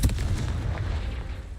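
Confringo fire spell explosion in the game Hogwarts Legacy: a single heavy, booming burst that hits at once and rumbles away over about a second and a half, with no voices.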